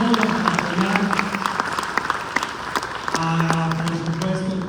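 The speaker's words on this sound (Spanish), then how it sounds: "otro aplauso también del Parque Cultural Reynosa" Theater audience applauding at a state theater festival opening, dense sustained clapping that stays loud throughout, with a voice speaking over it near the end.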